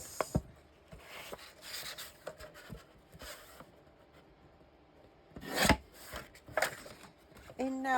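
Paper being cut for a shadow box makes a few separate rasping, rubbing strokes with soft handling rustle between them, close and fairly quiet.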